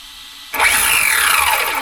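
Corally Shirio XP6 electric short course RC truck given a quick throttle blip, a sudden high motor whine that jumps in after silence and holds briefly, close and fairly loud.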